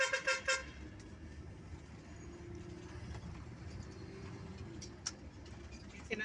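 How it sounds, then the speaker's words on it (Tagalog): A musical car horn on a road in Santo Tomas, Batangas toots in a quick patterned burst at the start, then traffic rumble continues, with another brief toot near the end. "Sinasayawan na busina."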